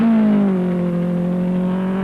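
Toyota Corolla rally car number 24 on a 1985 Castrol International Rally stage, a single loud engine drone that drops in pitch as it passes or shifts, sustained and near.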